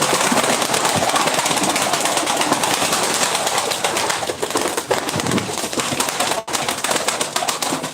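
A flock of Turkish tumbler pigeons raised as play birds in Ankara, giving a dense, continuous wash of cooing, calls and fluttering up close, loud and steady throughout with no talk.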